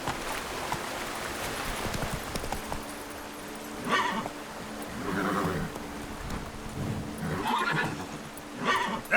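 Roach the horse in The Witcher 3 video game whinnies several times over a few seconds, the loud neighs rising above muffled hoofbeats and background game ambience.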